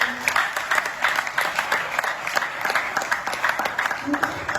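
A congregation at a church service at Centro Gilgal in Angola claps in a quick, rhythmic pulse, the beats sharp and regular, with voices mixed faintly underneath.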